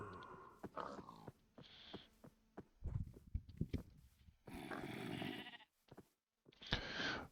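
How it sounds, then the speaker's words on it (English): Minecraft cave mobs groan and bleat in bursts beneath the ground, several separate creature calls with silent gaps, moderately loud and near. "See, I can hear monsters down here."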